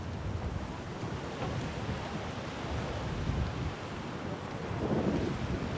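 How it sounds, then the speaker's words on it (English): Strong wind blows steadily over a bay during a 2007 Queensland Open lawn bowls semifinal, a constant roaring rush with soft surges, with no voices. "Hold on to your hats. It's a blowy day on the bay."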